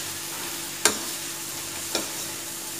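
Snake gourd sabzi sizzles steadily in a pan while a spoon scrapes through it twice, close and clear with no talk.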